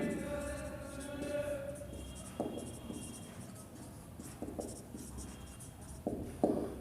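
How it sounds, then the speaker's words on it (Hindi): Marker or chalk writing on a board during an accounts lesson, a series of short scratchy strokes with taps at the end of each word, mid-level and close, over a low room hum. "देखो शॉर्ट में लिख रहा हूँ"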